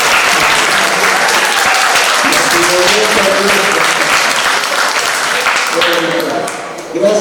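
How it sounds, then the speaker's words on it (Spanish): Steady, loud applause fills the room from an audience at an academic conference, sustained throughout before tapering slightly near the end, with voices mixed in. "Fuerte aplauso"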